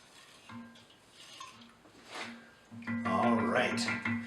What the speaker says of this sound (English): I usually give it a little stir. Get that sugar and get that ground ginger into suspension.